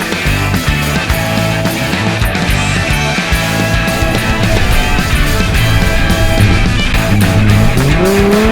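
A Holden Kingswood race car at a Gas Dash event roars loudly and steadily, its engine note shifting and rising near the end amid bursts of tire squeal, heard close with no talking.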